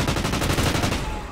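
Gunfire from the video game Call of Duty: Ghosts crackles in a fast, heavy burst of rapid shots, loud and dense throughout before easing off at the end.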